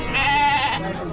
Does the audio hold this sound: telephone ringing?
no